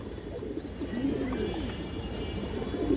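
Several pet pigeons give low, rolling coos one after another, near and steady, over a busy background of faint higher chirps.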